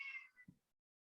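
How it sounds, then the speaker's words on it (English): A house cat gives one short, clear meow at close range in a quiet room, followed by a soft low thump, then silence. "oh man, this cat."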